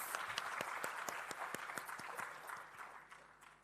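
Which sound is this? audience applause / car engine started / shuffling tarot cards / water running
audience applause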